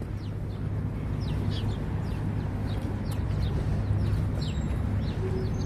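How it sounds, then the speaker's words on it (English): Faint, scattered bird chirps rise over a steady low city hum near a waterfront pier at Hudson Yards in New York City, continuing throughout without talk. "you can hear the birds"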